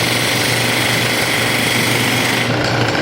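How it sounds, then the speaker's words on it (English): A wood lathe turns a taper on a large wooden chess pawn, giving a loud, steady whirring chatter of the cutting tool against the spinning wood, with no talking. "Now, you can see I'm turning kind of a taper down this way."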